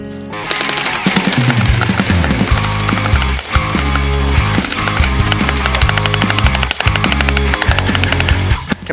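SRB 1200 gel blaster firing a long rapid automatic stream during an accuracy test, loud, close and continuous with a buzzing motor-driven rhythm, no talking.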